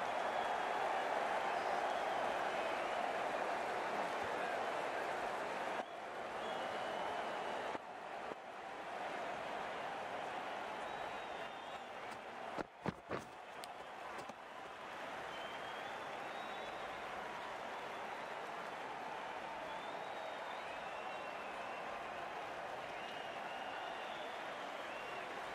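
A crowd applauds at a match, a steady wash of clapping sustained and fairly distant throughout, with a brief clatter midway and no clear voice on top.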